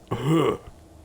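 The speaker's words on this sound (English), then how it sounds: "was that supposed to be like a death cough or something?" A Reaper death cough from the video game Mass Effect 2: a single short, guttural, rasping cough-like burst lasting about half a second, heard alone.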